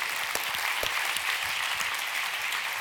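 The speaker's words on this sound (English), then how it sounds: "One more round of applause for the tens of sponsors on our website" Dense, steady applause from a large crowd at a startup week event, a continuous wash of many hands clapping at once, loud and sustained throughout with no voices on top.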